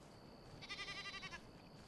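A goat in a survival video game bleats once, a short wavering call, faint and distant against a quiet background.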